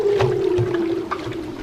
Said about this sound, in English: it were leopard seals playing around the hull, and they make the most intriguing sound